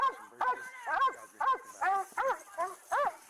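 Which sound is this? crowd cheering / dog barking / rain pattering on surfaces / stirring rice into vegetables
dog barking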